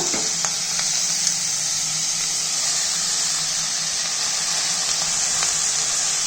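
Onions sizzle and fry steadily in an oiled pan for a Kannada mixed greens stir-fry, a constant close bright hiss with a few faint clicks of stirring, no voices.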